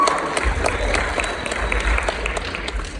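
A steady burst of audience applause at a church gathering, with many hands clapping continuously at an even level throughout, somewhat distant and filling the room.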